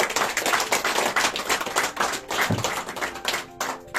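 A church congregation bursts into sustained clapping, dense and lively hand claps filling the room for several seconds.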